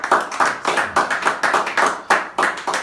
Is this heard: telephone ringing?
no